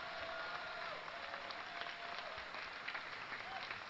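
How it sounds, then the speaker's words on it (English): A BlizzCon audience applauds the StarCraft II voice actors, steady crowd clapping heard from a distance, even and continuous throughout. "Give another round of applause to our amazing voice actors at BlizzCon."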